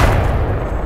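Heavy, booming gunfire from Titanfall 2 gameplay, a loud close burst with low rumble trailing off within a second.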